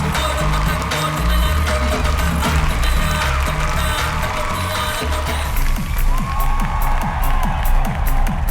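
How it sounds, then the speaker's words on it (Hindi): Film audience at a stage show breaks into loud, sustained cheering and whooping with clapping, a dense crowd roar running throughout over music and scattered voices. "उनके लिए जोरदार तालियां बजाएं"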